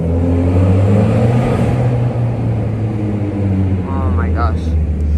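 A Mitsubishi Evolution X fitted with a full titanium exhaust idles and revs close by, producing a loud, steady low rumble with a rising whine near the end, while someone talks over it.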